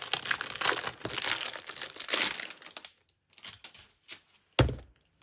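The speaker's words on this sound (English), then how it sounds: "I'm going to open this now so it's crinkly" Crinkly plastic packaging around a planner is torn open and crumpled up close, a loud rustling stretch followed by short crackles and a single thump.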